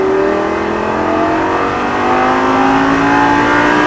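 A Lamborghini Gallardo LP560 engine roars at full throttle, its pitch climbing steadily as it accelerates, loud and close with no talking.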